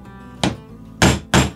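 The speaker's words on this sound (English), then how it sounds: "Just give them a couple extra whacks." A hammer taps nails into a wooden board for string art, three sharp knocks close by, the last two quicker together.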